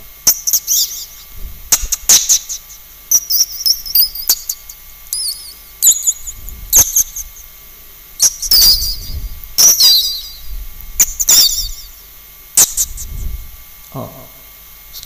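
A voice imitates a baby chick with high, thin peeping chirps, short and scattered across the stretch, close and fairly loud.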